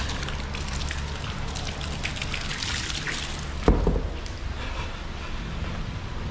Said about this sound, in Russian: И чистенькой водой все это дело смываем.